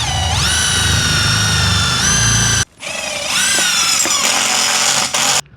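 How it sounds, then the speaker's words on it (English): A power drill drives a 16mm hex head self-drilling metal screw into sheet metal, its motor whining loud and close, then stopping briefly before a second high-pitched run that rises and holds. "I'm going to be using that 16mm hex head metal self driller"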